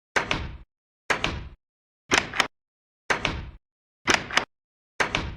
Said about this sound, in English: If you remember this door sound, you are a veteran Minecraft player.